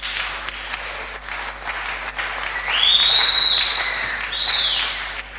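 Church congregation applauding and cheering for the Lord, a broad wash of clapping building in the middle with shrill whistles or cries rising above it, fairly loud and continuous.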